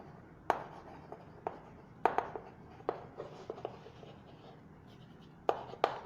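Pen or marker tapping and scratching on a board or paper while angle notes are written, giving sparse, sharp little clicks and short strokes over a low room hiss.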